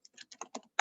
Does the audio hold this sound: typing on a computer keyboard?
yes